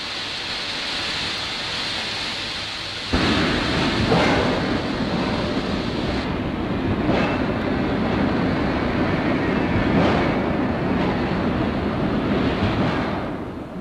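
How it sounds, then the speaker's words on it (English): Loud, steady hiss of electrically powered pumps spraying water onto steel strip over a low industrial rumble, with the spray intensifying sharply after a few seconds and brief bursts recurring. "Electrically powered pumps spray it with water."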